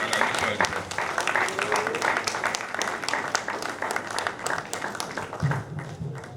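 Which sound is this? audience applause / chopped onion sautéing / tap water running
audience applause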